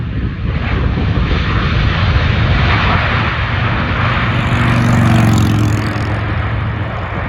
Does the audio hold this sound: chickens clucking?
no